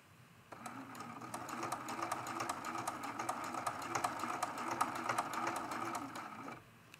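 A sewing machine stitches a cathedral window quilt ornament, running steadily and close up for about six seconds with a fast, even needle rhythm, then stopping.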